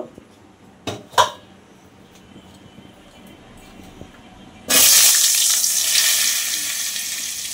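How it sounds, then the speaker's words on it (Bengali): Potatoes go into hot oil in a wok: a quiet stretch with a couple of soft clunks, then a sudden loud burst of sizzling that keeps going and slowly eases off. "এইবারে আলুগুলো ভেজে নেব।"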